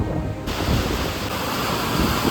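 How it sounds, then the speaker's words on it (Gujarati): Strong storm wind and heavy rain roar as a dense, unbroken wash of noise close to the microphone, loud and steady throughout with no voices. "બહુ જ પવન આવે છે અને વરસાદ એટલે ધડાકેદાર આવે છે યાર"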